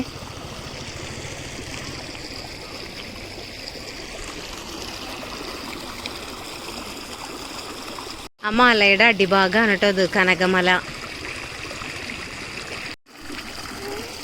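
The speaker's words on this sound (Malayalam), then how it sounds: "വെള്ളം ഒഴുകുന്നു നോക്ക്. ചെറിയ കുഞ്ഞ തോടാണിത്." A small stream trickles and gurgles steadily at the foot of Kanakamala hill, soft and continuous, while someone talks over it close by.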